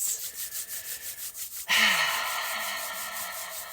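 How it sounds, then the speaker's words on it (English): Hands rub together in a quick rhythmic back-and-forth swishing during a guided meditation, followed by a soft breathy exhale and a lingering hum. "I invite you to rub your hands."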